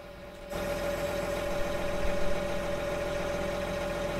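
A large tractor idles nearby ahead of seeding work, its engine starting in after half a second and then running as a steady, continuous low rumble with a fixed hum, with no voices.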